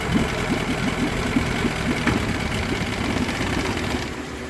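A Mariner outboard motor running in gear with a steady, knocking, rhythmic engine rumble that drops off near the end as it stalls.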